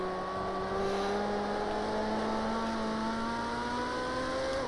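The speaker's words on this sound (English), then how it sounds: "You can hear those tires are really fighting to keep up with the power." Ferrari engine in Project Cars 2 holding a steady high, droning whine as it pulls under power, tone rising slowly and evenly and staying loud and continuous throughout, with no talking.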